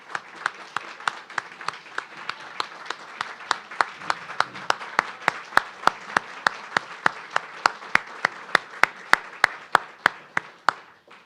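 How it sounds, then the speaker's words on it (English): Audience applauding students at a college program announcement: crisp claps in a steady, even rhythm, about three per second, continuing throughout and fairly close. "Let's give them a round of applause."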